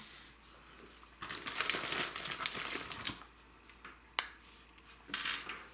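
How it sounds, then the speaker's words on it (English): A square sheet of paper is folded into a triangle, giving faint crinkling and rustling with a few sharp creasing snaps, close and quiet with no talking. "Just fold into a triangle."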